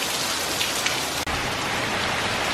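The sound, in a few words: heavy rain falling during Hurricane Irma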